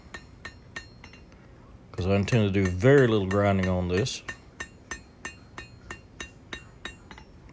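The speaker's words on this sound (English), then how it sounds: "Now I'm planishing out the hammer marks" A hammer strikes a hand-forged small knife blade on an anvil, planishing out hammer marks in a steady run of sharp, ringing metallic taps, with someone talking over a short stretch in the middle.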